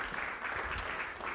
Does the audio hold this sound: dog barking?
no